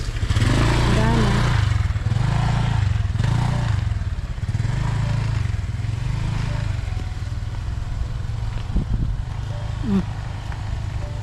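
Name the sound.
motorcycle riding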